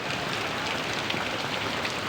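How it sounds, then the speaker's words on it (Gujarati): Heavy rain comes down in a village, a close, constant patter and wash of drops striking surfaces with no pauses. "તો બરોબરનો આવ્યો વરસાદ"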